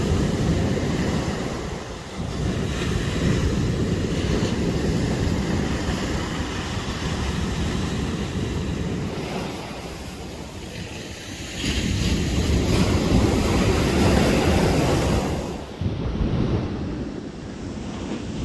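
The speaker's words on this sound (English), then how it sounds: "Look at the sets rolling in now, look." Sets of waves roll in on a Holderness Coast beach during a sea-fishing match, a continuous loud surf roar that swells and eases in long surges, with gusts of wind buffeting the microphone.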